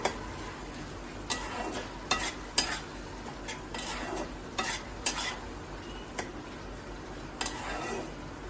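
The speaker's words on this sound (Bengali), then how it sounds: "এবার নাড়িয়ে নিচ্ছি এটা" Shrimp with pumpkin greens stirred in a pan, with soft sizzling beneath a series of sharp spatula knocks and scraping strokes against the metal at uneven intervals, close and fairly quiet, without talking.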